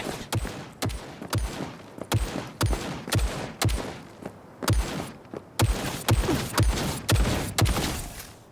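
Turret gunfire in Cyberpunk 2077 pounds out loud, evenly spaced bursts about twice a second, each a sharp crack with a short booming tail, near and continuous apart from a brief pause midway.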